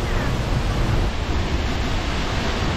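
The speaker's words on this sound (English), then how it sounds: "This is from the waterfall." A North Carolina waterfall produces a steady, dense roar of falling water, loud and unbroken throughout with no pauses or distinct events.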